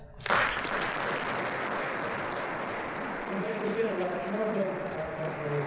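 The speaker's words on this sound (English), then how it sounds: "Let's give them a round of applause." Audience at a corporate annual meeting applauds new board members, a dense, steady roar of clapping throughout with a voice rising faintly beneath it toward the end.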